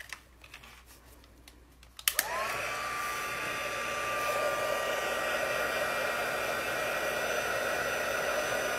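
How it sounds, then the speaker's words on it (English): A heat tool switches on with a click and settles into a steady, close, loud whooshing blow as it melts black embossing powder for a stamped stained-glass card technique. "I'm going to make a little bit of noise with my heat tool."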